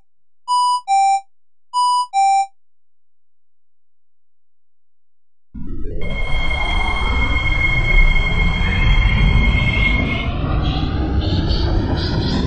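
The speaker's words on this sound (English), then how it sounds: "The train is about to depart. Please stand clear of the platform screen door." Roblox game train departure: two-tone chimes sound twice, then after silence the train starts moving with a rising motor whine and rumbling wheels growing steadily louder.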